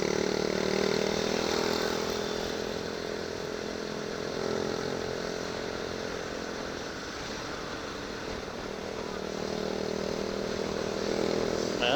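A motorcycle engine drones steadily on a solo ride from Cavite toward Bicol, a continuous moderate hum with wind noise that dips slightly midway and rises again, no voices over it.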